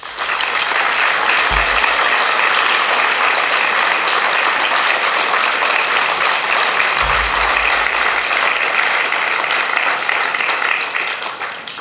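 Sustained loud applause from a large audience at the closing ceremony of a festival, paid as a tribute in place of a minute of silence, steady and dense for the whole stretch with no talking.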